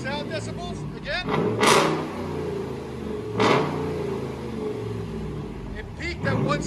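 Deep idle of a 2016 Ram 2500 HD's 6.4L HEMI V8 fitted with a Vibrant resonator, punctuated by two quick, loud throttle blips a couple of seconds apart while voices chatter nearby.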